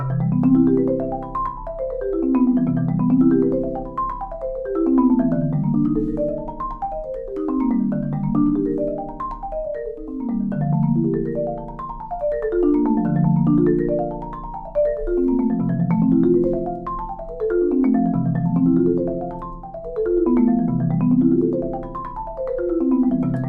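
A clean, low bass guitar plays repeating major seventh arpeggios, each note ringing into the next in a steady rolling pattern, with no talking.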